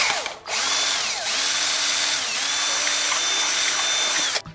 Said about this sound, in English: You're gonna take the drill.